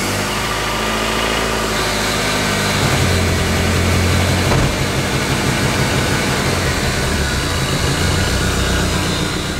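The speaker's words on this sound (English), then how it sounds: "now that the car has coolant in it, I'm going to start it up and back it up towards the front of the shop" Car engine cranking and catching in a repair shop after coolant is added, then settling into a steady, loud idle with a constant low rumble and vibration.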